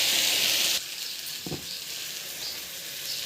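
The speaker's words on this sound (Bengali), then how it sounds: "আলু ভালো করে কষিয়ে নিচ্ছি।" Potatoes sautéing with spices in hot oil: a bright, loud hiss of sizzling fills the opening second, then settles to a softer continuous fry with one brief scrape of stirring, up close.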